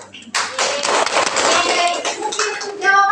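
Classroom applause for a student in an elementary science lesson, a burst of quick clapping close by lasting a few seconds, with voices mixed in.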